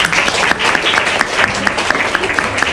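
Loud, dense applause from an audience at a Bulgarian book presentation, many hands clapping together in a steady, close, continuous roar.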